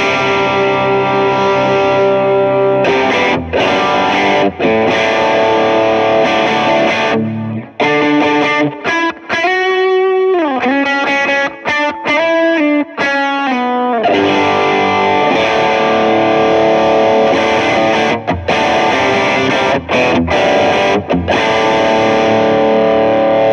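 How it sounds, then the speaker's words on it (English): Electric guitar played through a Klon-style overdrive pedal with the gain turned up, giving a loud, sustained, gritty tone with chords and single-note runs, continuous and up close with no talking. "then I'll turn the gain up so you can hear, like, what does a Klon sound like?"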